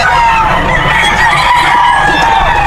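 Roosters at a Bocaue pet market in the Philippines crow and cluck loudly and close by, several birds calling over one another in a busy market setting.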